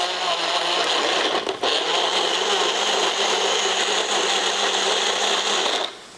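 A blender runs on high, pureeing pineapple with vegetables such as carrots and onions for a sweet and sour chicken sauce, a loud steady whir that holds for about six seconds with a brief dip near the middle, then cuts off.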